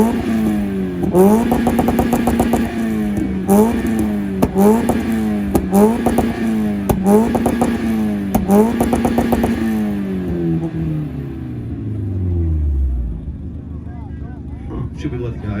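Mazda Miata revved hard in repeated bursts at a two-step rev battle in North Carolina, loud and close with popping limiter stutter, a short pause, then the engine winding down; voices talk over it.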